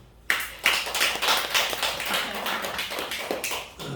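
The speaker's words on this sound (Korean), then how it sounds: "다시 한번 박수" Applause from a church congregation during Sunday service announcements, a thin scattering of claps that starts abruptly, swells into a steady patter, and carries on at moderate level without voices.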